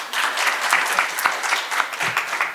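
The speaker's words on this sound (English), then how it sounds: "give him a round of applause" A conference audience at an education panel discussion gives a speaker a round of applause; close, continuous clapping from many hands runs throughout, loud and even, with no voices breaking through.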